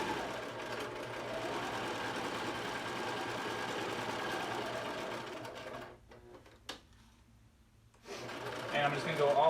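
A sewing machine runs in a long, continuous buzzing stitch across a cotton face mask, stops for about two seconds, then starts up again with a faint voice nearby.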